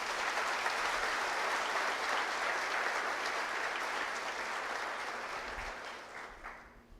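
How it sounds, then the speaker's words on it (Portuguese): A church congregation at a family worship service claps in a sustained, dense round of applause at moderate volume, slowly tapering off toward the end. "Aplauda o Senhor Jesus por isso."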